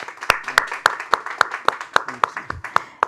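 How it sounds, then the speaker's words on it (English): Audience at a panel discussion at an art fair clapping for a panelist, a steady rhythmic patter of a few close hands rather than a large crowd, with a voice audible beneath it. "She deserves a big applause."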